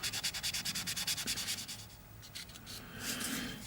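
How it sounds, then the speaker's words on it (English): Rhythmic scratchy strokes of 2500-grit sandpaper rubbing a plastic model kit part, steady back-and-forth at first, then a softer, smoother continuous rub. "I'm using 2500 sandpaper here"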